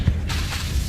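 Expelliarmus spell cast in Hogwarts Legacy: a low thump followed by a bright, shimmering burst with a whooshing sweep, short and close.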